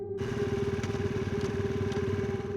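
A motorcycle engine runs steadily with a throbbing, buzzing drone, close and continuous throughout.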